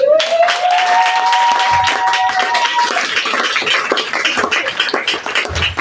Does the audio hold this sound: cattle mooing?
no